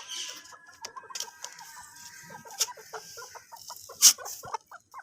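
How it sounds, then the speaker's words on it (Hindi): A rooster and hen in a small village cage cluck repeatedly in short, close, irregular bursts, with a single sharp squawk near the end and no talking. "अब मैं निकालूँगी दूसरे मुर्गा और मुर्गी को, जो कि इस छोटे पिंजरे में है।"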